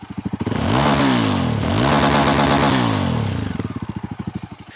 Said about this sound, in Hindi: इसके बाद में इसकी आवाज़ भी आपको सुनाएंगे